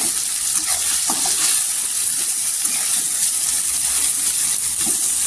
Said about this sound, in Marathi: तेलावर छान असं परतून घ्यायचा।